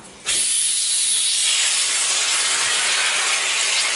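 Whipped cream bursts from an aerosol can in one long, loud, steady hiss that starts abruptly and holds close to the mic without a break.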